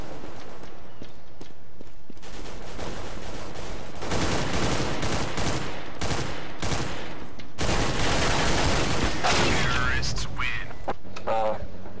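A video game shootout in a Counter-Strike style match crackles with dense, rapid bursts of gunfire, loud and close, firing in clusters with short pauses between them.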